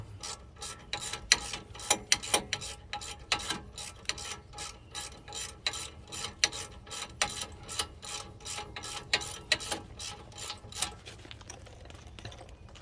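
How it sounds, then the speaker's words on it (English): A ratchet clicks rapidly in repeated bursts while bolting on the front brake caliper assembly of a 2011 Honda Ridgeline, sharp close ticking runs with brief pauses between strokes. "You just bolt the whole assembly on."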